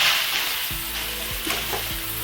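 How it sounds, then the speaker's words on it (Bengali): Pieces of chicken sizzle loudly in hot oil for a mirchi chicken dish as they are stirred, a dense constant frying hiss with a few scraping strokes close by. "তো চিকেনগুলো দিয়ে দেওয়া হয়ে গেছে এবং আমরা ভালো করে এবার নাড়িয়ে নেওয়া হচ্ছে।"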